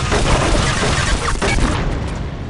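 Explosives blowing up in the video game Unreal II: The Awakening, a loud, dense blast with crashing debris that fills the whole clip and fades slightly toward the end, with no talking.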